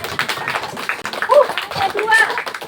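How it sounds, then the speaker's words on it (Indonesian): Students in a classroom clap in uneven bursts, mixed with voices speaking and chattering at close range. "Kita beri tepuk tangan dong untuk Cina."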